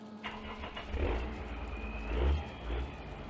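A Warrior utility vehicle engine in a farm sim video game gives a low, fairly faint, steady rumble with a few swells in revs and no talking.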